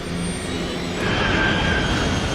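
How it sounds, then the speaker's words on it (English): A 100-ton jet airliner, Flight 77, screams in a low descent: a loud, steady roar of engines with a broad rushing wash and a thin high whine that swells slightly partway through, with no voices. "The 100-ton jet screams lower and lower."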